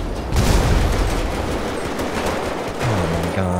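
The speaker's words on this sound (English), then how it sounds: "Oh my God, the explosions. Lots of them." Dense, continuous booming and crackling of video game explosions and rapid gunfire, loud and chaotic, with a brief tonal hum near the end.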